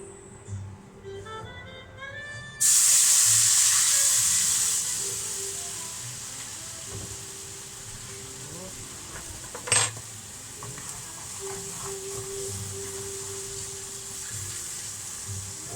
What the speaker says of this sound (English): now with the rest of this pan, let's get some water.